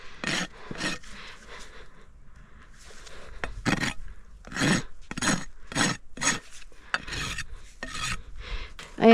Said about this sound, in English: smooth my bevel out with the rasp